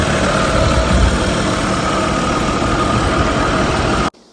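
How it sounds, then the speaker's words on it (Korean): A Hyundai Equus VS380 Prestige with a 3.8-litre V6 idles steadily at close range, a constant even hum that stops abruptly near the end. "V6 380 엔진 소리 들어보시겠습니다."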